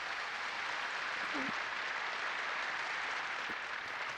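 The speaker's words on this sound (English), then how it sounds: "giving her all the applause they can muster" Audience applause in the video game White Album 2: a steady, fairly quiet wash of clapping from a crowd that holds evenly throughout.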